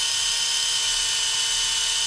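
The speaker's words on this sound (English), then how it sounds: "And then we're going to begin the drill." Drill bit boring into aluminum during a fabrication job, giving a steady, loud high-pitched whine with a constant motor hum that runs unbroken for the whole stretch, with no voices.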